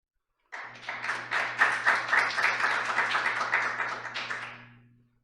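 Audience applause rises at an academic society's 30th-anniversary opening ceremony as a speaker is welcomed to the podium, a dense run of hand claps that swells, holds steady and fades over about five seconds over a low steady hum.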